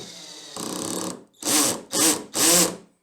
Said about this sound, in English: If the drill come across resistance, it will stop driving the screw in.